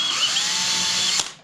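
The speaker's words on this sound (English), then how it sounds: "But I'm going to try to pre-drill" A power drill whines steadily as it pre-drills small holes for tiny screws in a wooden piano bench, close and loud, then spins down at the end.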